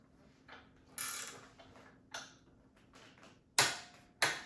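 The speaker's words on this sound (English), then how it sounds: "we'll put our wrench in and torque that to 54 Newton meters or 40 foot-pounds" A torque wrench tightens the crankset bolt on a Cyclete bicycle bottom bracket, giving several separate bursts of close ratcheting clicks with short pauses between them, quiet overall.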